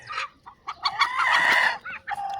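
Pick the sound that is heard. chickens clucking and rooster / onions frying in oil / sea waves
chickens clucking and rooster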